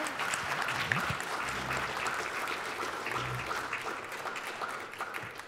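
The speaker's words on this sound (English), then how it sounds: "Everyone, round of applause." Crowd at a meeting applauding a panel, continuous mid-level clapping with faint voices murmuring underneath throughout.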